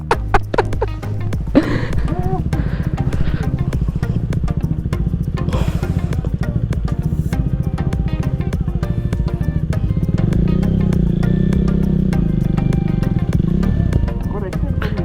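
A KTM motorcycle engine labours along a rough back-country trail in Coorg, a continuous rumbling drone with rising throttle surges and clatter over rocks, with people talking and shouting over it.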